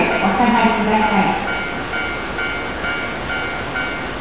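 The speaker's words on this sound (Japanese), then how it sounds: "5番線に列車が到着します。" A train pulls into a station platform in Japan, its rolling rumble and wheel noise loudest at first, then settling into a steady hum with faint tonal platform sounds and chimes.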